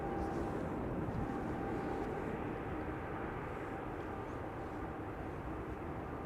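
Ryanair airliner landing at Amsterdam Schiphol, a steady broadband jet roar heard from outside at a distance, even and continuous without pause, no voices.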